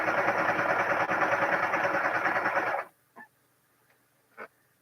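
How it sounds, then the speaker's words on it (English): A serger overlock sewing machine runs loud and steady with a dense mechanical whir for nearly three seconds, then stops abruptly, leaving a quiet room with a few faint clicks and small knocks. "Can you guys hear me okay over the Serger?"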